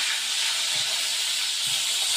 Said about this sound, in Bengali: মাছটার এক পিস ভাজা হয়ে গেছে, আর এক পিস দিয়ে দেবো